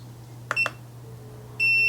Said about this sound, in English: Immediately, it's going to beep until I get off of the screen